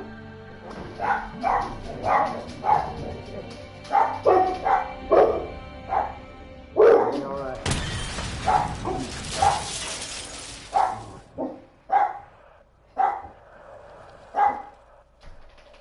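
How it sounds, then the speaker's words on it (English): Dogs bark in a room in a rapid, irregular series of close, loud woofs and yips, with a brief burst of crashing, shattering noise in the middle and no talking. "Dogs barking."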